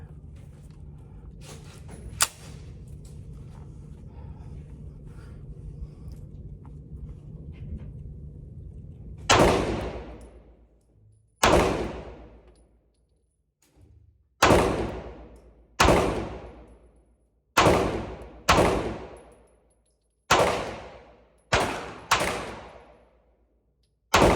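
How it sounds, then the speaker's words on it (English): Nine loud, sharp 9mm pistol shots from a CZ 75 D Compact fired at 25 yards, each crack ringing out and decaying before the next in an irregular, unhurried rhythm after a quieter lead-in. "shooting this CZ at 25 yards"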